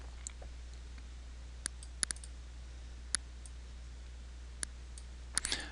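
A computer mouse clicks while someone draws perspective lines in Paint. The clicks are sparse and crisp, some single and some in quick pairs, faint over a low steady hum with no talking.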